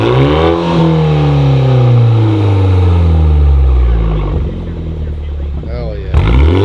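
A Toyota Supra with an ARK Performance DT-S exhaust revs hard while parked. Loud, close engine blips rise and fall in pitch several times, and a voice talks over the end.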